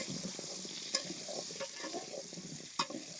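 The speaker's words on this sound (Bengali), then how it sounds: "এবার আলুগুনা তেলে ভালো করে ভেজে নেবো" Potatoes frying in oil in a pan: a close, steady sizzle with soft stirring scrapes throughout and two sharper utensil clinks, with no voices.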